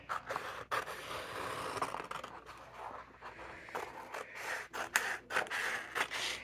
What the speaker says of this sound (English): So I'm just going to cut this square out.